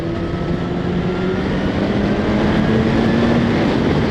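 A 2016 BMW S1000RR motorcycle accelerates past a cruiser, its engine a steady, close, loud roar mixed with rushing wind noise that holds throughout.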